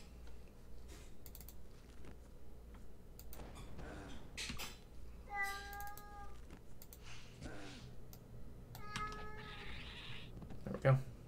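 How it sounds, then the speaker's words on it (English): A cat meows a few times in short, thin calls against a busy backdrop of computer game sounds, clicks and a person talking. "What do you want, kitty cat?"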